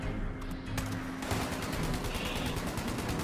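Gunfire in the video game Fallout 76 rattles in a dense, continuous burst of rapid shots, loud and close, filling the whole moment.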